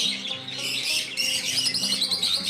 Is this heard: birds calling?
yes